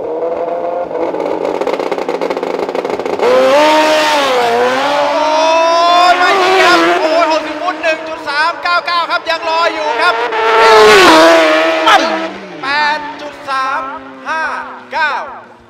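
A drag racing car in the Open Unlimited class screams down the strip on its final run, the engine note climbing through loud sustained revs, while a commentator talks over it.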